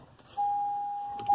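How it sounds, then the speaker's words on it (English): Car warning chime beeping after shifting into drive, a single clear sustained tone held for about a second, then a second beep begins. "pardon the beeping, when you put the car in the drive"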